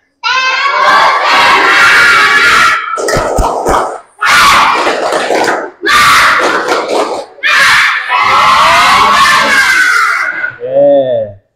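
Schoolchildren in a classroom shout a loud rhythmic clapping chant in unison, bursts of voices and claps repeating in sections with brief pauses between, ending in a short quieter call.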